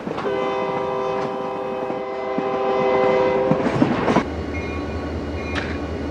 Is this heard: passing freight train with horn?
yes